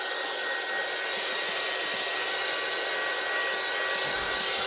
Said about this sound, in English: I'm going to take my heat tool and I'm going to dry this